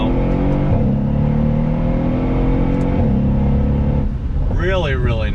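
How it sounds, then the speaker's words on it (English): A 2019 Mercedes-AMG SL63 roadster's engine drones loud and steady from the cabin while driving, then briefly changes pitch as it downshifts. Someone speaks toward the end. "Downshifted third, you hear the pops."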